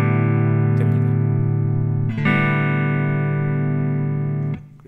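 Funk electric guitar through a compressor with its gain turned down holds a sustained, even chord, struck again a couple of times, steady and close with no voices.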